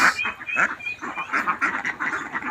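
A flock of domestic ducks raised on a farm quacks and honks close by, overlapping calls in a busy, continuous chorus with no talking.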